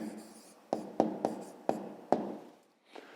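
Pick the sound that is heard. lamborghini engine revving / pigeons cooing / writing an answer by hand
writing an answer by hand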